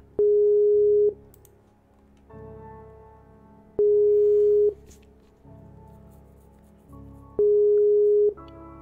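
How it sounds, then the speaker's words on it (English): A steady electronic ringback tone repeats three times in long, evenly spaced bursts, with quieter line hiss between the rings. "Okay, it's ringing."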